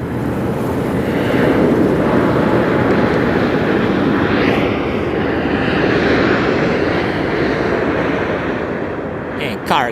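Jet engines of a Cargolux Boeing 747 freighter roar steadily at Las Vegas Harry Reid International Airport, a loud, sustained broadband rumble with wind buffeting the microphone throughout.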